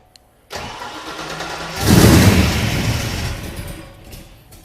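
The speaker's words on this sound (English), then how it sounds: "My wife's going to turn this car over and we'll see if it fires." A 1990 Ford Mustang V8 with AFR heads, TFS cam and RPM II intake cranks with a whirring starter on its first start, then catches and roars to life, settling into a running idle, close by.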